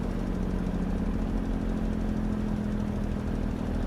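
A rugged truck's engine idles steadily in Farming Simulator 22, a constant mid-low droning hum with no change in pace, alone and moderately loud throughout.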